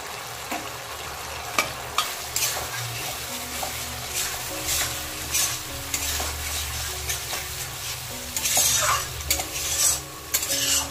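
Prawns fry in an oily spice masala as they are stirred through it, a steady close sizzle broken by repeated scrapes and clinks of a spoon against the pan, with no voices.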